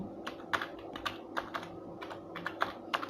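Fingers tap out a website address on a computer keyboard in quick, uneven bursts of crisp key clicks, close and fairly quiet, with no voice over them.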